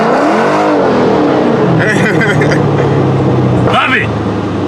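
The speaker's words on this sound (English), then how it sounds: "That popping is backfire." A 2015 Dodge Challenger SRT Scat Pack with its mid muffler deleted rumbles loudly up close, with a couple of sharp backfire pops in its exhaust, while people talk over it.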